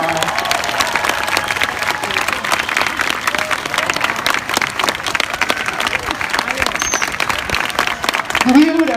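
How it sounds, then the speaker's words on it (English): An audience at a sea lion show claps and cheers, the applause dense and sustained throughout with crowd noise mixed in. "The louder you clap, the higher he'll jump today."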